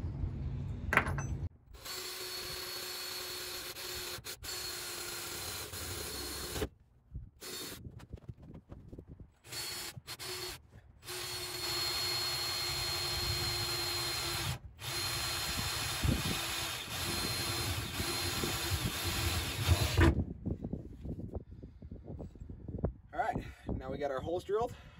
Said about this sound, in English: Now we got our holes drilled